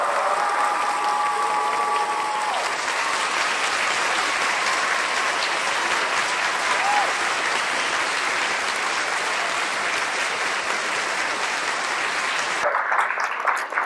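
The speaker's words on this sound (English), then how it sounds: "A big Earthkeeper round of applause for Andrew Collins." Sustained, loud audience applause for a presenter at a lecture on the search for the Hall of Records, steady crowd clapping lasting over twelve seconds before cutting off.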